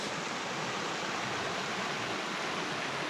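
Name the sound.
Clark's Creek trout stream flowing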